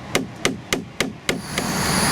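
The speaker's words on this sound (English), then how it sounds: "I have a hammer. I'm gonna tap it." Five sharp metallic hammer taps on a bass boat's steering in an even rhythm, close and crisp, followed by a quieter hiss.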